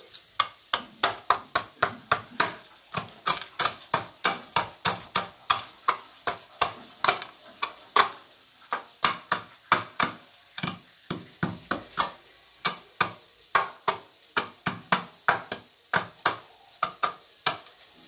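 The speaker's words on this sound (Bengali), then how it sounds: "একটু ক্রাশ করে দিচ্ছি।" Ingredients being crushed with a kitchen tool, a long series of sharp, close knocks repeating at a brisk, fairly regular pace with brief pauses in between.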